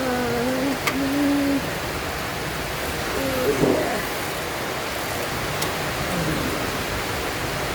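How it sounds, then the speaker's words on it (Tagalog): Heavy rain pours down in the Philippines as a steady, dense hiss that fills the whole stretch, with a faint voice briefly surfacing beneath the downpour. "Lakas ng ulan guys, kanina pa."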